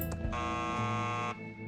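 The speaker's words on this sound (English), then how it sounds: "It made a beep." A single electronic beep from an arcade machine in the point-and-click game Thimbleweed Park: one sustained, buzzy synthetic tone of about a second, clean and alone with no talk.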